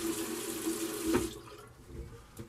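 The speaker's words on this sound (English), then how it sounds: "Let me rinse off my face and we'll come back in just 1 second." Tap water runs into a bathroom sink as a face is rinsed after a straight razor shave, a steady close splash that thins out midway, with a few brief splashes afterward.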